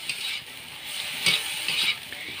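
Crab coated in white mustard paste being stirred in a pan, a soft scraping and gentle sizzle with a couple of louder spatula strokes over a few seconds, no talking.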